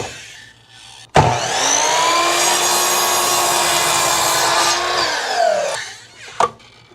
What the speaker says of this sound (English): we can use a miter saw and cut all the way through on the 4-inch line